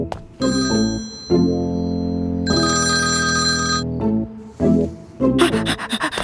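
A phone rings unanswered, its loud melodic ringtone sounding in repeated bursts of bright tones with brief pauses, and no talk over it.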